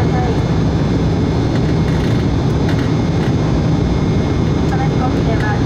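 Steady loud roar of a JAL jet airliner cabin in cruise on a flight from Itami to Aomori, with a broad engine drone filling the background while a cabin announcement voice speaks over it throughout.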